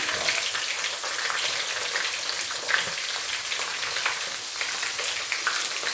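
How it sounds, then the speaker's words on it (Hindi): Onion frying in a pan alongside green chili potato slices, a bright continuous crackling sizzle with small popping spatters, close and even throughout. "और अब इसमें डालूंगी ये छोटा सा प्याज"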